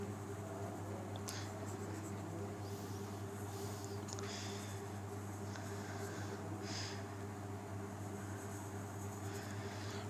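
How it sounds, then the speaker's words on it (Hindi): A pen writes a cursive letter A on paper with faint, intermittent scratchy strokes over a low, constant background hum. "कर्सिव राइटिंग के अंदर जो ए है वो इस तरह लिखेंगे हम"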